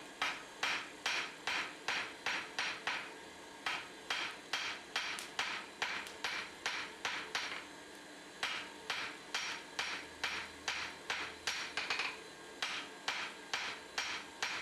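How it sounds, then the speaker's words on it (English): Steady, rhythmic hammer blows ringing on hot metal being forged and tapered, struck in quick bursts with short pauses between groups, close and loud against a quiet workshop hum. "I'm just trying to find my favourite hammer."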